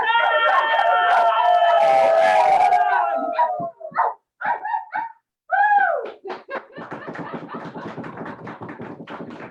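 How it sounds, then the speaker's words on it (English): Dogs bark in a toy theater performance: a few sharp barks and yelps come in bursts after a long wavering tonal sound, followed by a run of quick rapid tapping, with voices around them. "There were dogs everywhere, working everywhere."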